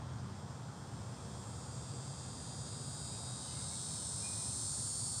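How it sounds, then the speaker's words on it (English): Crickets chirp in a dense, continuous high-pitched trill over a low background hum, steady and unbroken with no talking. "it ain't a moment where the crickets don't be loud"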